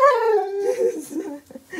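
A dog whimpers and whines in a drawn-out, falling howl-like cry, followed by shorter yips and whines, close and fairly loud.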